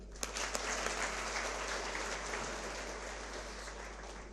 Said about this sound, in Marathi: आता एक वेळ पुन्हा स्वतःसाठी टाळ्या होऊ देत